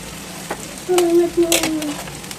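Onions and green chillies frying in a pan, a steady close sizzle with sharper crackling bursts and faint stirring scrapes, the hiss rising as the ingredients hit the hot oil.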